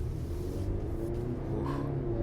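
A 2023 Acura RDX A-Spec speeding up in normal drive mode, with a steady low engine and road rumble building gently from inside the cabin and no talk over it.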